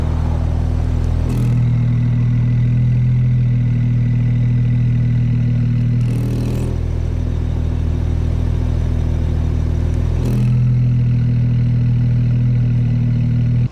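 A 12-year-old BMW 335i with a valved sport exhaust idles with a deep, steady rumble, swelling into three brief louder blips with a sharp raspy edge before settling back to the low burble.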